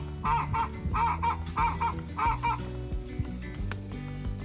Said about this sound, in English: This other chicken is trying to get out.